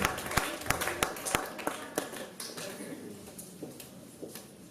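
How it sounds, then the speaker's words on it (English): Scattered clapping from a small audience at a parents' summit in Port Harcourt, a few sharp claps at first thinning into lighter, uneven applause with faint voices underneath. "Clapping, please. Keep clapping. Keep clapping."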